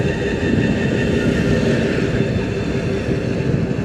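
Dhaka metro rail train running near Diabari station between Mirpur DOHS and a lake, a loud, steady rumbling roar of the passing train with no break.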